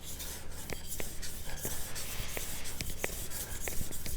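A blade is drawn across a fine Nano Hone polishing stone with water, producing soft, close, rhythmic rubbing strokes with faint scraping.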